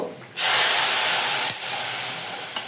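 Browned fried onion and garlic tipped into hot mashkalai lentil dal, setting off a sudden loud, steady hiss that runs on and fades slightly.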